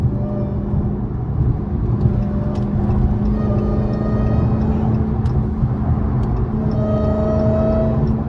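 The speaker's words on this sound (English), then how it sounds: "But this supercharger sound" A Dodge Hellcat's supercharger whines steadily while it drives on a highway, over a constant low engine drone heard from inside the car, with a higher whine swelling near the end.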